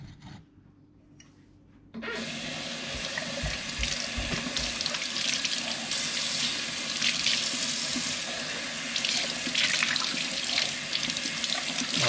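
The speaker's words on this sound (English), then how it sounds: "Now just rinse it." A kitchen tap gushes water over a tea-stained teacup while it is rinsed. The loud, steady splashing and rushing starts after a short quiet moment and runs on alone without pause.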